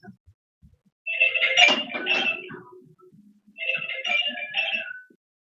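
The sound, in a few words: telephone ringing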